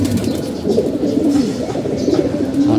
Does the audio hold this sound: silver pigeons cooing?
yes